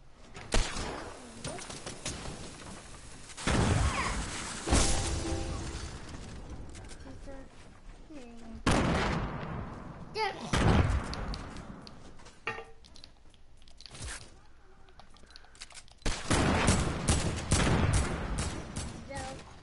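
Gunshots from players shooting in a video game, coming as repeated bursts of rapid fire with louder volleys spread through the stretch, while people talk over it.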